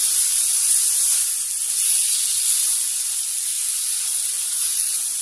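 Finely chopped large tomatoes sautéing in oil in a pan for brinjal gravy, a steady bright sizzle and hiss that holds level throughout with no voices.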